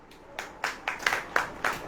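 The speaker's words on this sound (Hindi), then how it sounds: "अब और ताली बजाओ" A church congregation claps hands in a steady rhythm of about six sharp, fairly near claps, each with a short bright burst over a quiet room tone.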